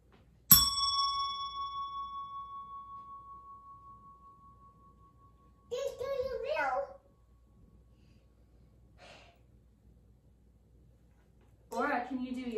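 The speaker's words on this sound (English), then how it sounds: "we're going to hit the bell one time" A single bright bell strike rings out and slowly decays, followed later by short bursts of children's voices.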